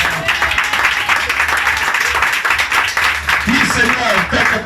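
A church congregation at a Sunday worship service applauds, a steady wash of clapping with voices mixed in throughout, loud and sustained for several seconds.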